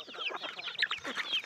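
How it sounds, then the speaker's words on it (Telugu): Native country chickens on a small farm cluck and chatter close by in a steady, overlapping flock, with no talk. "ఇక్కడ అన్ని కోళ్ళు కలిసి ఉన్నాయి ఫ్రెండ్స్"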